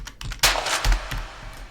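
A cave reverb sound effect: sharp hits echo with a long, cavernous reverb tail, several booming impacts ringing out one after another.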